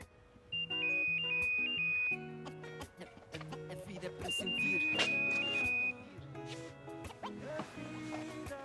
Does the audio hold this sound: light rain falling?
no